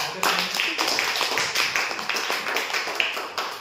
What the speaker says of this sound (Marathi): तुम्ही सर्व तिच्यासाठी टाळ्या वाजवत